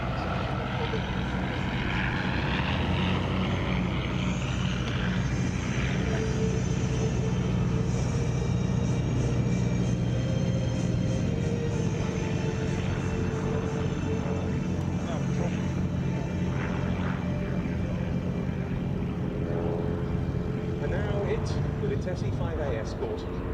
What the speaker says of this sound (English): scale SE-5A replica, passes by in front.